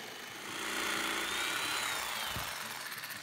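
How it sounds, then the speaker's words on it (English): Jigsaw cutting wood trim at a workbench, a brief buzzing power-tool whine that swells and fades, close by. "Then we'll take it out to the workbench and cut it out with the jigsaw."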